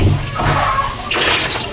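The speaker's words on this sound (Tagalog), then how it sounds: "Ngayon ato nibutangan og gamay na tubig." Water poured into a cooking pan while making pancit, a short splashing rush of liquid that surges twice in quick bursts, close and fairly loud with no voices.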